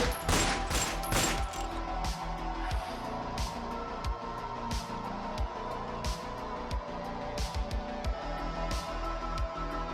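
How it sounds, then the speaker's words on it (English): Rapid bursts of gunfire in the video game Resident Evil, loud and sharp, with several shots clustered early and more spaced cracks following over continuous background noise. "you can hear around like 8 gunshots"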